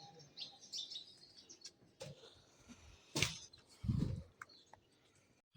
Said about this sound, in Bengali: পাখিদের ডাক।